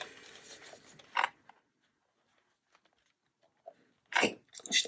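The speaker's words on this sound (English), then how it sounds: "And then I'm going to cut this off." Scissors cutting off a piece of paper for a handmade journal: a brief rustle and snip, a near-silent pause, then two more close, crisp cuts toward the end.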